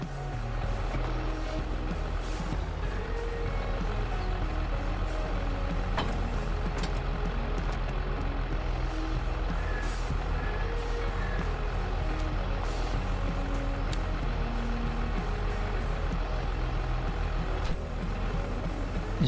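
A John Deere tractor driven in Farming Simulator 22 gives a steady, unbroken engine drone with a low rumble that stays level throughout, with no talking over it.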